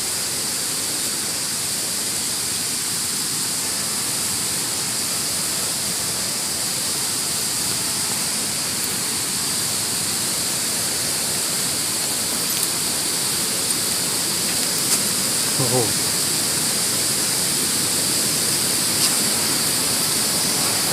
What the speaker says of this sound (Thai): ผมได้ยินเสียงน้ำ